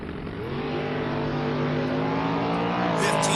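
A 70 Camaro and an 04 Mustang drag race car launch together, loud sustained engine roar rising steadily in pitch as they accelerate away.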